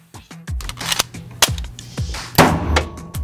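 Sharp handgun shots from a .22 TCM pistol, several quick cracks in a row, loud and close, each with a short ringing tail.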